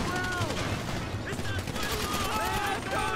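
Dense, continuous automatic gunfire during a GTA 5 Online heist mission, rapid overlapping shots forming a steady loud barrage with game sounds mixed in.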